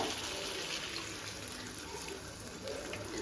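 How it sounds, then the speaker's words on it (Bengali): Water poured into a pan of spiced jackfruit and prawn curry, a steady, close rushing splash that continues evenly throughout, with no talk. "এবারে আমি জল দিয়ে দেবো"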